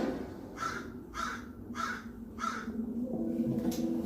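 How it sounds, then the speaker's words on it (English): A pet crow named Mama Crow gives four loud, harsh caws in an evenly spaced series close to the microphone, then one fainter call near the end, over a steady low hum. "Look, my crow is right here."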